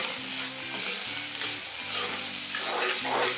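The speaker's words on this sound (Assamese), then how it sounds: "এতিয়া ৰঙা হোৱালৈকে ফ্ৰাই কৰিব লাগিব" Chopped banana stem fries in a pan with turmeric and salt, a steady close sizzle with scraping and stirring noises and a faint rhythmic mechanical hum beneath.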